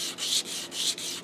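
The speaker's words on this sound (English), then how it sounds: "I'm going to put that on my sandpaper, and I'm going to use that as a guide" A guitar nut blank is sanded flat on 120 grit sandpaper against a ruler guide, giving loud, close, gritty scraping strokes in a steady back-and-forth rhythm, three passes with short gaps.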